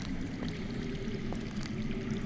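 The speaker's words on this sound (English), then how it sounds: "That's water. I hear water." Water streams and pours continuously in a Game of Thrones adventure game, a steady hissing, gurgling flow at moderate level with faint scattered clicks over it and no voices.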